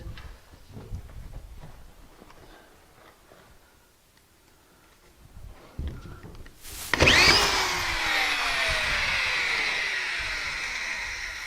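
A power drill drives screws into a drywall panel being hung on a crooked wall, a loud sustained whirring that starts abruptly partway through and holds steady after quieter handling noises.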